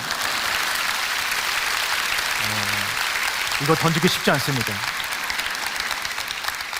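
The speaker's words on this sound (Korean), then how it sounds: "원래 박수가 좀 나와야 되는데" A church congregation applauds during a sermon, a dense continuous wash of clapping that carries on while the preacher keeps talking over it.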